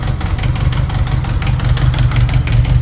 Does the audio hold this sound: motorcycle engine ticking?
yes